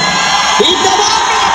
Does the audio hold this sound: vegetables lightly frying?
no